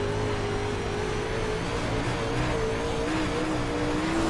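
Race car engine in a racing video game holds a steady high drone with pitch wavering as the throttle shifts, loud and continuous with no talk over it.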